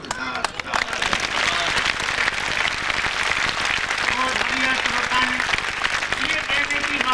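Steady, dense applause from a live audience at the 7th Mahamoorkh Sammelan, a Hindi comic poetry gathering, filling the whole stretch with continuous close clapping and crowd noise, a voice faintly heard beneath.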